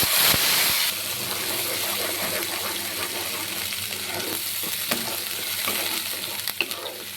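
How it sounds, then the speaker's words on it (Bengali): Onion paste fried in a pan over cumin seeds, dried red chillies and bay leaves: a close, continuous sizzle and hiss with occasional stirring scrapes and soft spatters. "আমি পেঁয়াজ বাটাটাকে কষিয়ে নেব"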